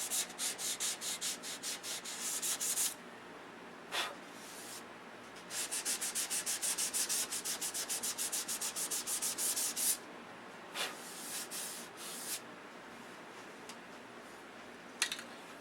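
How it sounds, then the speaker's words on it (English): Light hand sanding of freshly sprayed primer with 600 grit sandpaper, steady rhythmic scratchy rubbing strokes in bursts with short pauses, close and fairly loud with no talking. "Light sanding."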